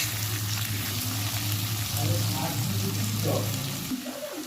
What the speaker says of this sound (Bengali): এবার পেঁয়াজটা ভালো করে ভেজে নিতে হবে।